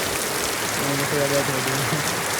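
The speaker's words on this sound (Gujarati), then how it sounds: "જો ફૂલ વરસાદ ચાલુ થઈ ગયો" Heavy rain pours down in a dense, steady hiss, with a voice speaking briefly beneath the downpour.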